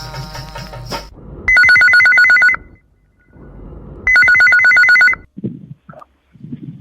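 A telephone rings in two long bursts of trilling electronic tones, loud and close, separated by a short pause, with brief background sounds around them.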